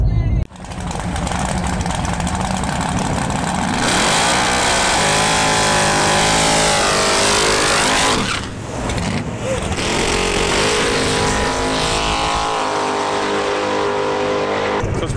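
A drag race car once built by the owner's father roars through loud, rising revs and a brief lift before revving hard again, close and dominant, with voices talking beneath it.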